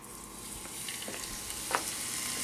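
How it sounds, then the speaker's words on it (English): Rack of lamb searing fat side down in a hot pan of olive oil, giving a steady, low hiss of sizzling with a few faint pops and one brief sharper crackle near the end. "that sear sound that you hear is exactly what you want"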